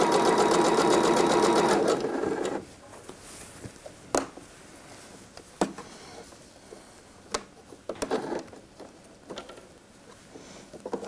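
Sewing machine stitching along a coat sleeve: a steady, loud run of fast stitching for about two seconds, then it stops, followed by quiet handling with scattered light ticks and clicks.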